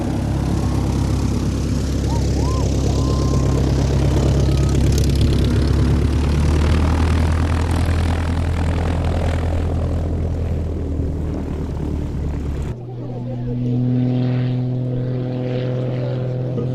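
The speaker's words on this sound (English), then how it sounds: "the Muscle biplane getting airborne immediately" The Muscle biplane's propeller engine roars loudly and steadily at an airshow as it takes off, a continuous drone with a shifting pitch. A brief change in tone comes near the end.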